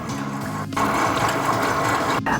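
A mixer whirs steadily as it beats beignet dough of flour, butter, egg and milk, with a brief dip in the motor drone partway through before it resumes at an even, close level.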